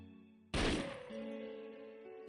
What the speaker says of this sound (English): He fires, and the lens of the security camera in the room shatters to pieces, accompanied by the ear-splitting sound of gunfire.